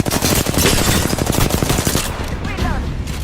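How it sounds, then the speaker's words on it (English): Rapid gunfire from Apex Legends Mobile, loud and close, with rhythmic bursts of shots rattling steadily before easing off as a faint voice enters near the end. "Shots fired at me."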